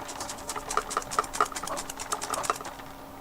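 A bottle of Mod Podge paint shaken hard, producing a fast rattling, knocking patter as the contents slosh back and forth, close up and fairly quiet, with no talking.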